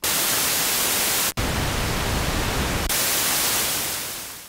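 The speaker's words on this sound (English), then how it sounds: "Here's the noise source." Steady hissing white noise from a Minimoog synthesizer's noise source at a constant level, briefly cut once and shifting in tone partway, then fading slightly at the end.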